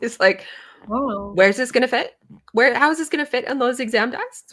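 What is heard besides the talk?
No distinct noise like a dog, phone or traffic.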